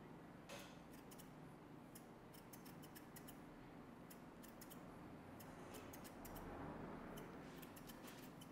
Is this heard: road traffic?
no